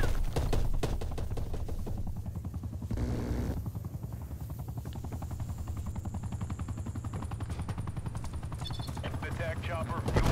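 A Call of Duty gunship helicopter's rotor thumps steadily and loudly throughout, mixed with bursts of machine-gun fire and radio-style voice callouts.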